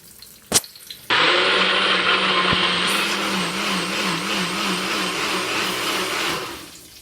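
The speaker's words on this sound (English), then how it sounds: "You put all of these in your NutriBullet, or if you have a blender, you put a blender" A click, then a blender whirs to life, blending vegetables including onion, and runs loud and steady for several seconds, its pitch wavering slightly before winding down.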